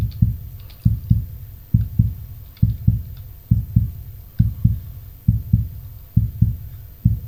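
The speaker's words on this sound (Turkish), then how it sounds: "Kalp sesleri geliyor lan." Heavy heartbeat thumps from the Outlast horror video game pound steadily in close, loud double beats at a fast, regular pace, about a dozen in all, with faint clicks in the background.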